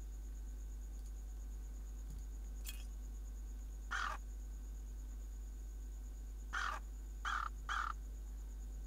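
Short bird calls from a game character in the adventure game Anna's Quest: a single caw near 4 seconds, then three quick calls in a row near the end, fairly clear over a faint steady background hum.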